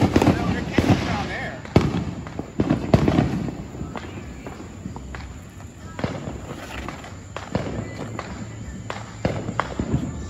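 Fourth of July fireworks burst in a string of sharp bangs and crackles, some close and some farther off, while people talk and move around nearby.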